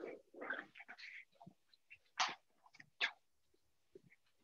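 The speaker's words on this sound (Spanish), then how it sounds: "Tenía el perrito tratando de salir de la reunión." A small dog whimpers and whines indoors in short, faint, broken cries scattered across the moment, close by and with no talking over them.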